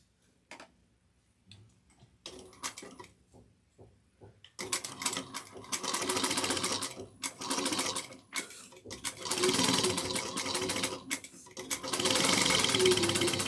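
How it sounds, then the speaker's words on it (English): A domestic sewing machine stitches the bottom trim of a woven tote at a 3/8-inch seam through multiple layers. Faint ticks give way to loud, steady runs of stitching broken by brief pauses. "for the bottom trim, we're going to sew it at 3/8 of an inch"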